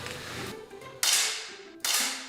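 Shooting-sport gun fired at a target, two sharp, loud cracks about a second apart over faint room background.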